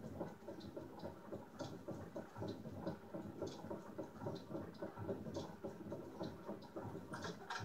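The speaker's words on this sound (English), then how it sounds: "Thunder." Crackling, rumbling thunder magic spell from the video game Dark Cloud, a steady faint wash of storm-like noise with repeated sharp crackles throughout, heard alone.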